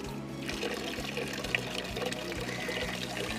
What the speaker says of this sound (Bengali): এখন কি জল পড়ছে কলটাতে?